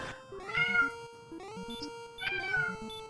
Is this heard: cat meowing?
yes